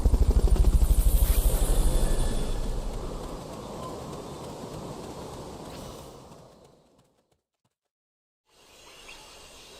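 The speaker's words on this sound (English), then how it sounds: "Fulton recovery helicopter is complete." Fulton recovery helicopter from the video game Metal Gear Solid Peace Walker: loud, dense rotor roar with rushing noise that fades over several seconds, drops to near silence, then returns faintly at the end.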